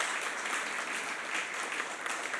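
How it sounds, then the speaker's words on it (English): A university audience at a technology centre launch applauds steadily, a dense, even wash of clapping held at a moderate, slightly distant level for the whole stretch. "Give Auntie Donna a round of applause as well."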